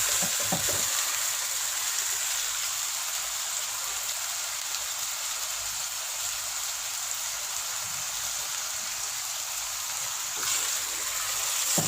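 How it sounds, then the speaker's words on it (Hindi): Chicken pieces for biryani fry over a high flame with a dense, continuous sizzle like heavy rain. The sound stays steady and close throughout, with faint stirring knocks and no talk. "चिकन ऐड करके इसको 2 से 3 मिनट के लिए तेज़ आंच पर पका लेंगे"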